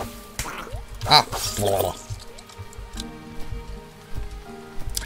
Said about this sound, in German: Und wir haben ein Leck. Weil es regnet.